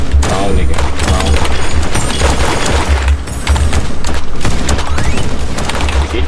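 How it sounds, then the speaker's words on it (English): Continuous gunfire and booming shots from a first-person shooter game in a raid on an enemy hood, loud and dense throughout with rapid bursts and thuds. "She just trying to fucking shoot me?"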